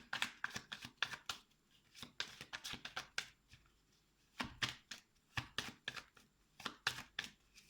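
Tarot cards are handled and drawn from a deck, making quick bursts of crisp snapping and riffling in irregular clusters with short pauses between them. The sound is close and fairly quiet, with no talking.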